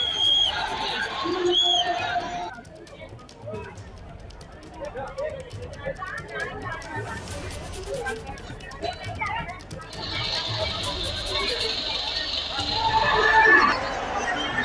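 Dense crowd of devotees gathered at the Nagnath temple chariot festival in Aundha, Hingoli, held on the third day of Mahashivratri, a steady babble of many voices with children's shouts rising and falling throughout.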